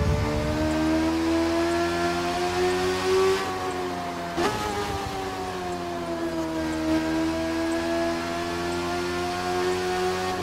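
A Kawasaki Z1000 motorcycle engine in the video game The Crew 2 holds a high, steady whine against its rev limiter for about ten seconds. The pitch rises and falls slightly, and one brief sharp dip cuts in partway through.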